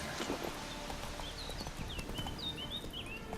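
Hooves of Geralt's horse Roach clip-clopping at a walk in The Witcher 3: Hearts of Stone, a steady patter of hoofbeats under ambient game sound with faint bird calls.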